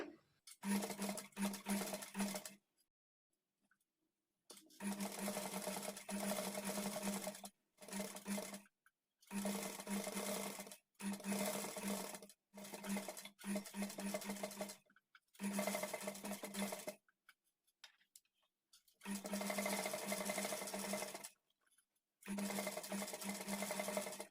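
A sewing machine stitches piping onto cloth in bursts of fast, steady whirring, stopping and restarting about a dozen times, close up and alone.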